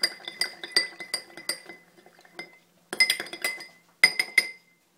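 A spoon clinks and rattles against a glass while stirring green food-coloured water, in bright rapid bursts with a short pause midway, close and clear with no talking.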